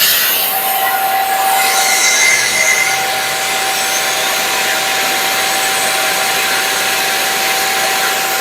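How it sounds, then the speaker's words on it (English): A Mazak Smooth G CNC line center machining center running with a steady, loud, broadband whir and hiss, likely coolant spray, with a faint tonal whine throughout and no speech. "Now the machine's running"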